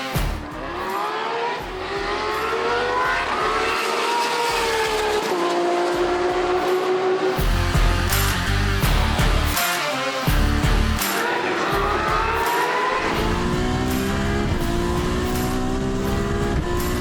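An 800-horsepower Nissan R32 GTR race car screams past at the Flying 500 at World Time Attack Challenge, loud and close. Its engine note climbs repeatedly through the gears, with sharp drops at each shift and hard revving throughout.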